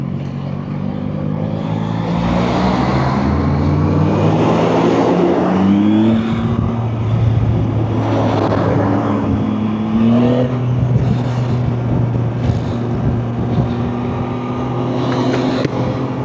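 A Yamaha Tracer 9GT 900cc motorcycle engine on a test ride revs up and down through the gears, with rising and falling whine and steady low rumble, loud and close, plus wind noise and no speech.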